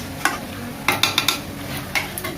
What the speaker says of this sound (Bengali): আর দোলের জন্য আজকে চিকেন আর মটন দুটোই রান্না হচ্ছে।